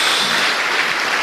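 A church congregation clapping together, a dense steady wash of applause filling the room without a break.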